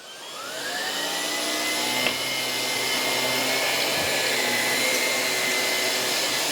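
Miele Duoflex HX1 cordless stick vacuum running its brush head over carpet, a loud steady whine and roar that swells slightly as it spins up, close and continuous.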